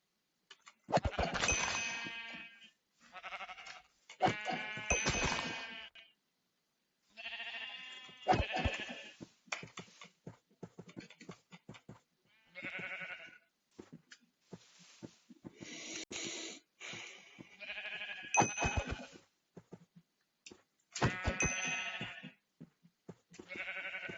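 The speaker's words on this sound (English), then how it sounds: "Legendary sheep, so let's take him out first." Sheep in a blocky, Minecraft-style Web3 game bleat over and over, with loud, close, wavering cries in separate bursts, some overlapping, and brief snorting sounds between them across about twenty-four seconds.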